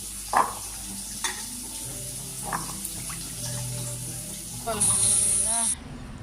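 Radish cooking in a pan, a low continuous sizzle with occasional stirring clinks and a brief rush of running water near the end, close by with a voice speaking briefly.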